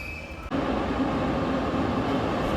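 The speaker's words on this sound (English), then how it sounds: "as we see a train passing by in its classic first modernization livery" A Tbilisi Metro train in its classic first-modernization livery passes close by, a loud continuous rumble and roar that rises sharply after a quieter start and stays steady.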